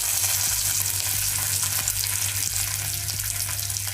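Green chillies and curry leaves frying in a hot oil tadka with urad dal: steady, close, crackling sizzle throughout, with a few soft knocks of a spoon against the pan and no talking.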